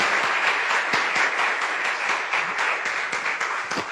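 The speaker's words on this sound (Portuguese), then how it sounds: "Aplauda Jesus" A church congregation claps and applauds together in a dense, sustained burst of clapping that carries on steadily throughout.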